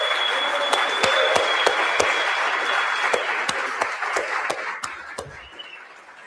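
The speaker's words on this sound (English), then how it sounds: "Give yourselves a round of applause." An audience at a conference applauds itself with a dense, loud round of clapping marked by a few sharp nearby claps, then gradually thins out and fades over the last second or so.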